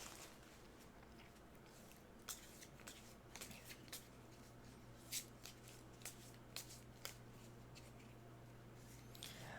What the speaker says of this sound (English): We'll just give it like a quick shuffle